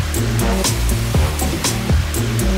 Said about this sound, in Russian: Вот там внизу водопад. Шум стоит. Просто невероятный.